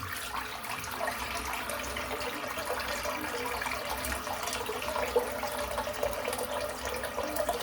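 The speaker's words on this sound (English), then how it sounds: "Just going to empty the sink out." A bathroom sink draining and being rinsed after a wet shave, with steady, faint running and gurgling water alone for several seconds.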